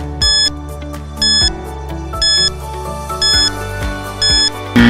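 A quiz countdown timer sounds a loud electronic alarm-clock ring in six evenly spaced bursts, each a bright metallic chiming tone followed by a short pause, with no talking.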